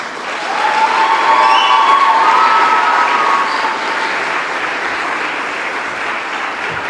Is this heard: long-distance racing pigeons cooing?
no